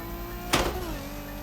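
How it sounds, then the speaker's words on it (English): A no-lift gear shift in a car in The Crew Motorfest racing game: a steady engine drone is broken by a brief mechanical clunk as the gear changes, after which the engine pitch drops slightly and carries on. "Watch this gear shift."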